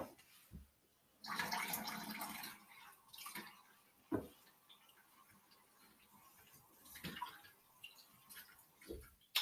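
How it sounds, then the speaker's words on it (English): Tap water runs into a container at a kitchen sink for about two seconds, a moderate rushing burst framed by a few soft clunks and handling sounds in an otherwise quiet room. "walk over to my sink and fill up my water"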